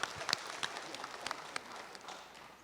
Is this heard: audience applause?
yes